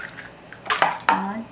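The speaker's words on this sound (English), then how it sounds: "Just crack it open. Throw the eggs in there." Eggs cracked one after another against a mixing bowl rim while making a pumpkin cheese roll: a few sharp, close clicks and taps spaced within a second, with brief clinks of shell and dish.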